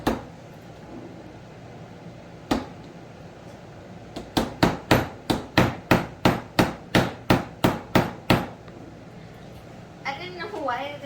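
Hammer tapping a kitchen island part into place: one early knock, then a steady run of about a dozen sharp, close hammer taps at an even rhythm, with a voice heard briefly at the end.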